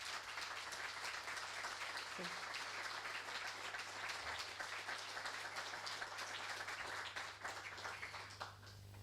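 An audience at a commemorative event applauds for Casa América Cataluña, a continuous, fairly faint wash of clapping under a low steady hum, with a brief spoken word near the middle.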